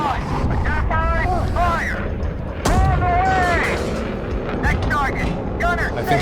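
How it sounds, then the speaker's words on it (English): Bombs burst over tanks in an M60A3 tank combat game, with heavy blasts and rumbling explosions amid continuous battle noise while someone talks excitedly over the action. "My bomber is coming in. He's dropping bombs."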